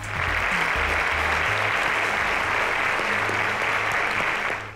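Studio audience on a quiz show breaks into sustained, dense applause, loud and even from start to finish with no voices on top.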